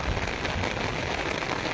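Torrential rain lashing down in Taunsa Sharif: a thick, continuous hiss of drops striking nearby surfaces, loud and unbroken, no speech.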